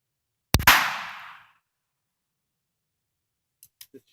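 A pistol shot cracks loud and close at target practice, one sharp report with a second right behind and a decaying ring, then quiet before three faint small clicks.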